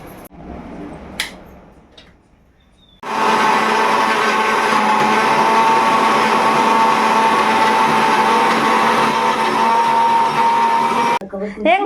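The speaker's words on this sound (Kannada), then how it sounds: "ಮಿಕ್ಸಿ ಮಾಡ್ಕೋಬೇಕು ಇದನ್ನ." A kitchen mixer grinder whirs on loudly after a few quiet seconds, running steadily at close range while blending cooked ingredients for a vegetable dish, then cuts off near the end.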